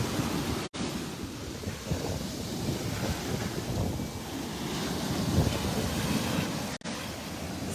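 Ocean waves wash steadily around a boat floating on open water, a soft continuous surf hiss mixed with wind buffeting the microphone, with no talking.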